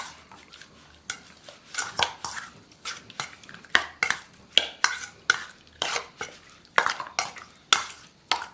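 Chicken being stirred with ginger-garlic paste in a bowl for chicken tikka, with a spoon clinking and scraping against the bowl in a quick, repeated rhythm, close and clear.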